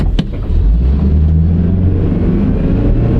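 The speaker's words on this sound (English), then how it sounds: "There goes the supercharger." A supercharged vehicle on a country road picks up speed, its deep engine rumble building steadily and loudly with a faint supercharger whine riding above it, no voices.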